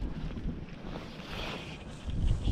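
Wind gusts buffet the microphone beside a lake on a fly fishing outing in hard winter conditions, a rough, uneven rushing that swells louder near the end, with faint lapping water underneath.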